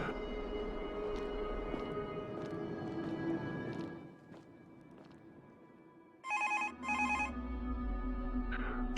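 A telephone rings in two short electronic bursts after a stretch of low background noise and rustling, fairly close.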